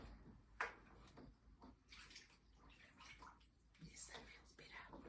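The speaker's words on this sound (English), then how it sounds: "I'm just going to add a little bit of boiling water" Water poured from a kettle into a bath of water during a bed bath for a patient, a gentle continuous splashing trickle heard close and fairly quiet, with brief soft sounds over it.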